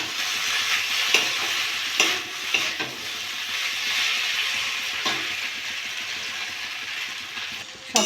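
Chow mein noodles stir-fried in a pan, a steady close sizzle with intermittent scraping clicks of a spatula stirring through the noodles, no one speaking.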